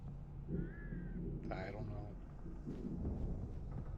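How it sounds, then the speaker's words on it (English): A raven caws in the Alan Wake video game, giving a couple of short harsh calls over a low, rumbling stormy ambience while a voice talks nearby. "Raven?"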